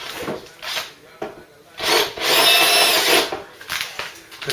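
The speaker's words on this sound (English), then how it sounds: "Now what I want to start doing is taking off the mounting metal brackets there, just by drilling them." Power drill cutting through the metal mounting brackets on a Mk3 Cortina under restoration, coming in several bursts with the longest and loudest in the middle, close and harsh, with short pauses between.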